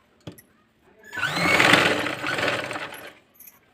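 A sewing machine stitches around the neckline of a dress, a close mechanical whir that rises after a sharp click, holds for about two seconds with slight pitch shifts, then tapers off.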